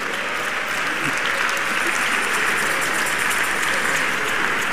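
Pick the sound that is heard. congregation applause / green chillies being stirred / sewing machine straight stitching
congregation applause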